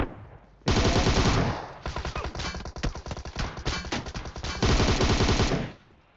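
A Tommy gun fires in PUBG Mobile, with long bursts of rapid automatic gunfire, loud and close, broken by brief pauses between volleys and no talking.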